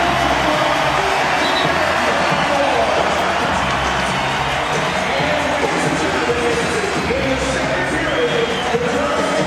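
Over twenty thousand basketball fans roar in an arena after a Raptors win over the Denver Nuggets, a dense, continuous wall of cheering and applause that stays loud throughout.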